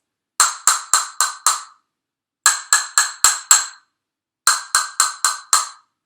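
A lower-pitched male castanet, El Macho, clicked in three quick bursts of five strokes each, crisp wooden clacks up close with short pauses between groups.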